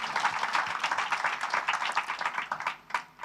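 A church congregation claps together in dense, steady applause that stays loud and close for the whole stretch, with individual claps showing through near the end.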